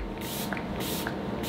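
Misting face spray from a beauty product bottle, sprayed in short hissing bursts, three or four puffs with gaps between, close and fairly loud, no talking.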